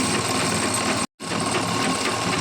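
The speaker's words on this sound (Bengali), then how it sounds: "দেখুন একবারে রানিং সেলাই দিচ্ছে" A sewing machine runs a continuous running stitch along the cuff of a housecoat sleeve at a tailoring class. The rapid mechanical whir sounds close and loud and stops once for a moment before starting again.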